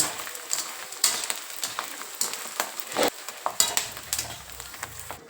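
Edible gum (dink) fries in hot ghee, giving a crackling sizzle with irregular pops and bursts, moderately loud and close, along with occasional light clinks of a utensil against the pan.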